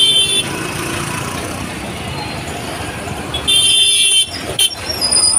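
On a crowded Mumbai road, loud car horns blare in long sustained honks at the start and again near the end over a constant roar of passing cars, trucks and buses.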